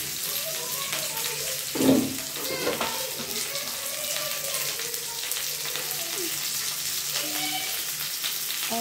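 Chilli chicken pieces with capsicum fry in a pan, giving a steady, close hiss and sizzle throughout with brief louder spatters and stirring noises; no one speaks.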